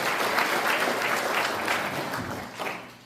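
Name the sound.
audience applause at ceremony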